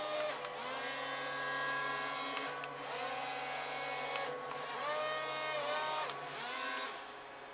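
Dawdix toy-grade RC amphibious hovercraft running, giving a loud, steady buzzing fan whine that rises and falls in pitch several times as the throttle changes, close by and with no voices.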